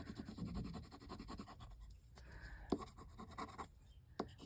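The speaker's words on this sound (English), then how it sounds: "I'm just going to use my bone folder" Bone folder rubbing and scraping across paper card, a steady close-up friction with short scratchy strokes and a few sharp ticks, faint and alone.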